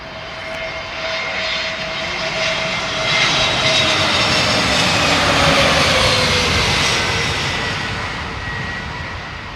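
Jet airliner engines roar loudly at London Heathrow Airport, a broad sustained rumble and whine that swells slightly as the aircraft passes close by.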